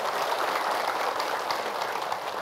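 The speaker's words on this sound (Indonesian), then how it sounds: "Tepuk tangan lu ibu-ibu boleh." Dense, steady clapping from an audience of women at an Islamic religious talk, a continuous even patter of many hands with no pauses, fairly close and filling the room.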